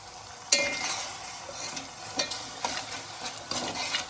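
Chana dal tempered with hot ghee sizzles softly in a pan while a spoon stirs and scrapes, giving a few sharp knocks over a steady frying hiss, close by with no talking.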